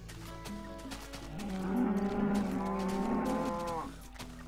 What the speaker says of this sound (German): Mal davon abgesehen, dass die Kühe dezent laut sind.